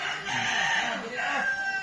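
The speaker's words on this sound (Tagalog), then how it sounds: "may mga manok na dyan sa taas, lumalipat" A rooster crows in a drawn-out call nearby, under a mango tree in Batangas, with faint clucking and ambient outdoor noise around it.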